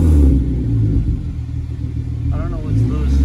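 Hyundai Genesis Coupe with Ark downpipes revving, its exhaust giving a loud, steady low rumble that swells and eases across the clip, with a voice speaking briefly near the end.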